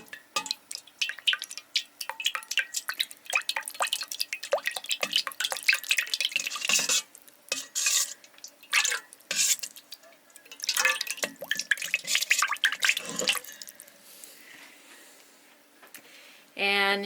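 Lemon juice poured into a homemade furniture polish mixture, close splashing and dripping in uneven bursts with sharp liquid spatters, fading near the end.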